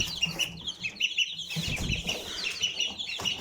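Small chicks and fowl cluck and peep near a farm coop with Blue Ligorin chicks, a busy mix of short high calls repeating throughout, close by with light rustling underneath.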